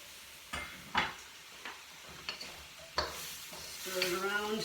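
Diced courgette stirred in a hot frying pan, a string of sharp spoon-and-pan knocks over a steady sizzle that swells louder near the end.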